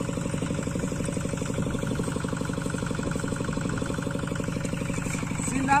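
Tractor engine working while plowing a dry, rocky field, a steady low rhythmic chugging that pulses evenly and stays close and constant, with a brief louder clank near the end.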